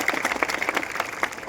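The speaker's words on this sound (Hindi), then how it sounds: "एक बार जोरदार ताली बजाओ इसके लिए" An audience at an outdoor street play on child marriage in Bhind claps loudly together, a dense burst of quick overlapping claps that stays strong for the whole moment.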